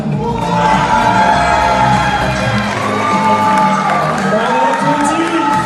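At a Musclemania bodybuilding competition, a loud crowd cheers, whoops and shouts for a second place winner, with clapping mixed into a continuous roar that carries some children's voices.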